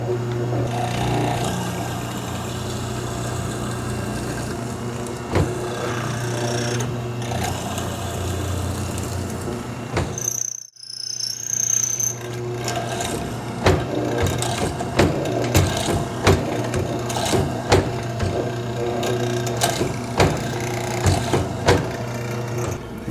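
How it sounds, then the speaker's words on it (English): A FISCH hollow chisel mortise bit in a mortiser cuts a mortise in wood with a steady machine hum and repeated grinding, chattering plunges, close and continuous apart from a brief pause midway. "normally these bits squeal so badly, but just listen how quiet this set is"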